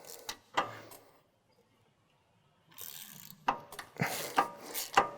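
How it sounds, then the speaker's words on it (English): A 15mm socket removing a plastic nylon lock nut during a 2011-2014 Ford F150 wheel bearing replacement: short metallic scraping and clicking bursts, a near-silent pause, then a denser cluster of sharp clicks and rasps close by. "And we're going to remove this nut."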